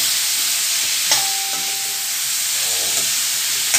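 Sliced gourd, eggplant and potato stirred in hot oil in a pan, a steady loud sizzle and hiss with a few scraping stirs of a spoon close by.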